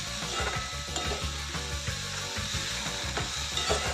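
Onion and tomato fry in a pan with a spoonful of salt for a fenugreek-seed bhaji, giving a steady close sizzle threaded with rapid, rhythmic clicking and scraping throughout.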